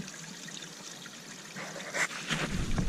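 Water trickling from a pipe beside a mountain hiking trail on the Appalachian Trail in Virginia, a soft steady dribble that grows a little louder and splashier toward the end, heard alone without talk.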